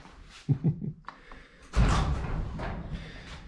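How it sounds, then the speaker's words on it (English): A garage door cracked open in a workshop housing a Harley motorcycle: a few quiet knocks, then a sudden loud thud and a rolling rattle that slowly fades, heard close and alone. "So I'll crack the door on the garage."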